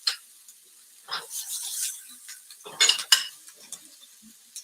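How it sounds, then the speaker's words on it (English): A spoon stirs an onion mixture in a pot, giving scattered scraping clinks and soft sizzling bursts with quiet gaps between them, close by. "a tablespoon of the onion and mix it around with it"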